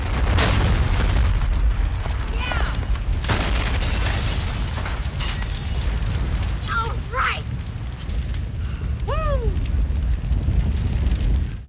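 A big explosion in the slasher film Uncle Sam: a loud, sustained roaring rumble with crackling fire and bursts, joined by excited voices and whoops over the blast.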